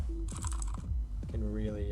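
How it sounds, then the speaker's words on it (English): Clacky mechanical computer keyboard typing in short uneven bursts, close to the mic, mixed with a voice and a tonal background sound, with sharp transient key strikes. "hearing a mechanical keyboard just go"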